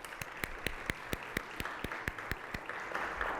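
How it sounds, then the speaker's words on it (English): Forum audience at a Columbus Metropolitan Club event applauding sponsors and partners, heard as sparse, distinct claps standing out from a light bed of clapping across the whole stretch, moderately close and not very loud. "let's give all of our sponsors and partners a round of applause"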